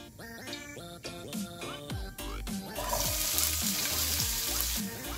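Onions stir-frying in a pan, with mushrooms and powdered jjajang soup mix nearby, give a broad sizzle that swells about halfway through and keeps going under louder rhythmic background music.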